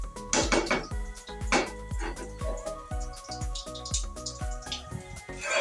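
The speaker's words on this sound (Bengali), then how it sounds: "এই তো আমি এভাবে নেড়ে ছেড়ে ভালো করে রান্না করে নেব" Spoon scraping and clinking in a pan while mashed pointed gourd (potol) mixture is stirred and cooked down, giving repeated close metallic knocks and scrapes in a steady rhythm with no talking.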